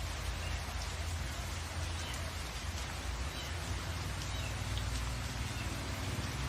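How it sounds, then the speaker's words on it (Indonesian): Heavy rain falls on the third straight day of downpours, a dense, unbroken hiss of drops hitting surfaces, steady and fairly loud with a low rumble beneath it and no voices. "Selama 3 hari berturut-turut terjadi hujan lebat."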